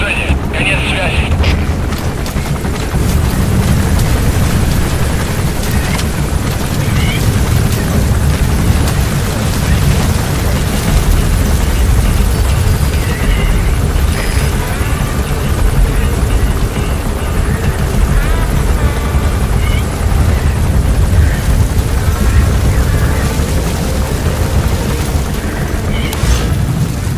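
A support helicopter arriving in the video game Metal Gear Solid V: The Phantom Pain, a loud, continuous rotor roar and engine rumble that stays close and steady throughout.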